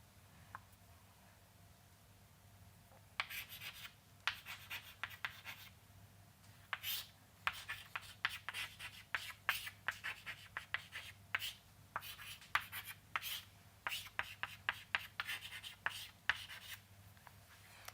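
An equation being written by hand, likely with pen or marker, with close, faint scratchy strokes and taps in quick irregular bursts after a quiet start.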